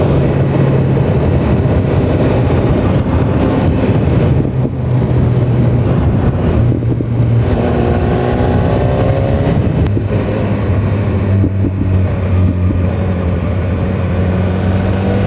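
A 2017 BMW S1000R motorcycle being ridden, its engine droning steadily under loud, constant wind rush, with the engine pitch climbing partway through.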